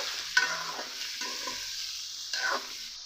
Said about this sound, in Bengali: লবণ দেওয়ার পর কুমড়াগুলো কিছুক্ষণ ভেজে নেব